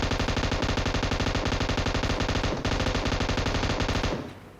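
Automatic gunfire from the PUBG Mobile video game rattles off in one loud, unbroken rapid burst of evenly spaced shots at close range, cutting off abruptly and leaving a short fading echo.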